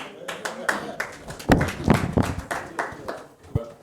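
A few audience members at a conference panel on corporate governance clap in sparse, uneven bursts, the claps close and distinct rather than a full round of applause.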